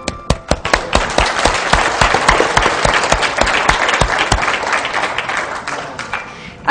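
A group of people claps for themselves at a body coaching session, a loud, dense burst of applause that runs steadily for several seconds before thinning out, with a voice faintly audible at the start.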